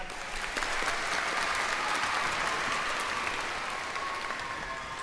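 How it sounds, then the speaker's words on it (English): Audience applause for the percussionist at an orchestra concert introduction, a steady dense wash of clapping lasting the full five seconds at even loudness, with no talk over it. "Give Andrew a clap."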